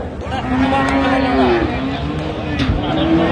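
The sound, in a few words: cow mooing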